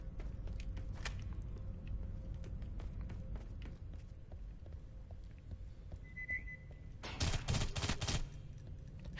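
Gunfire in the video game Aliens: Colonial Marines: scattered soft clicks and taps over a low hum, then a loud, dense burst of rapid shots near the end.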